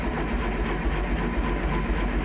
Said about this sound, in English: We're going to try and start it before we run out of battery.